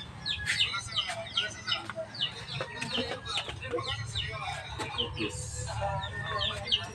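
Pet chickens clucking noisily and continuously nearby, a busy overlapping chorus of short clucks and squawks over a low background hum.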